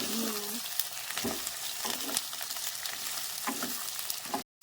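Pointed gourd frying in mustard oil in a clay pan, a steady bright sizzle with occasional stirring scrapes, ending in a brief cutoff.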